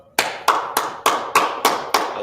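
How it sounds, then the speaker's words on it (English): Hands clap in a steady, even rhythm, seven sharp claps about a third of a second apart, loud and close with no talk over them. "All right, clap it up."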